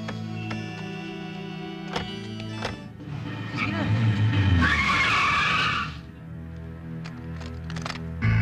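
A car skids with tires squealing loudly for about two seconds amid a chase scene, with shouting voices before and after and background music throughout.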